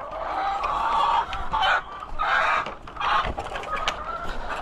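Hen clucking in bursts close by while eggs are gathered from its nest, with no talk over it.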